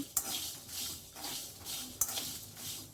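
Byadagi chillies for mango pickle being heated and stirred in a pan over a low gas flame, with soft scraping strokes at a steady rhythm, a faint sizzle and two sharp metallic clinks, close up with no talking.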